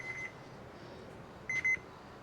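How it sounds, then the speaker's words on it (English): A kitchen timer beeps while a chuck roast smokes on a Lonestar Grillz offset smoker, giving a short, faint burst of high electronic beeps over a low background hiss. "our timer's going off"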